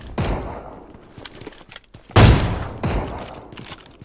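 Bursts of gunfire in the mobile battle royale game PUBG Mobile, played on an iPhone 7 Plus. Several rapid volleys and single loud shots stand out, with a heavy close burst in the middle and quieter shots between them.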